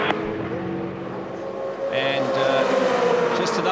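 Onboard rearward view from Stephen Johnson's 2004 Supercars V8 touring car racing at Eastern Creek, with a steady loud engine drone and rising pitch toward the end, a commentator talking over it.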